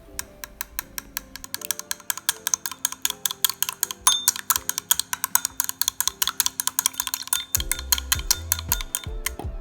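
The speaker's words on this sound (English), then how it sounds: "I'm using chopsticks to whisk it together" Chopsticks whisk an egg and heavy cream together in a bowl, making a rapid, steady run of sharp clicking taps against the bowl's side that continues throughout at close range.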